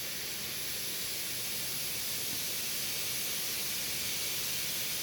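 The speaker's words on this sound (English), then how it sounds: "I'm going to take some compressed air and blow on the air temp sensor to cool it down" Compressed air blown onto the intake air temperature sensor of a rear-mounted turbo Audi RS4, a steady close, loud broadband hiss that stays even throughout with no pauses and no talking.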